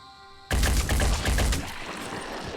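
Burst of gunfire in the tactical video game Phoenix Point, a loud volley of several rapid shots erupting suddenly after a quiet lead-in, then trailing off into lingering echo.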